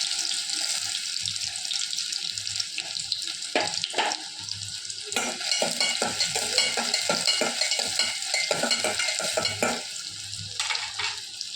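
Fennel seeds and onion frying in hot oil, a continuous loud sizzle with frequent clattering stirs and scrapes against the pan, close up and without speech.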